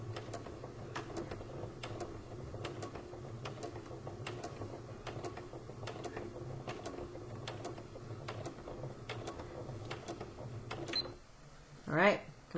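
A sewing machine stitches a pillowcase in a steady, rhythmic mechanical ticking that slows, then stops with a brief squeak of the fabric being handled; someone speaks quietly over it.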